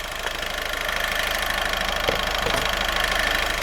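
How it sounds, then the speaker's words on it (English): A diesel engine idles steadily during a DPF cleaning, a constant loud rumbling drone with a faint knocking rhythm and a few small clicks, no voices. "We're going to leave the engine running."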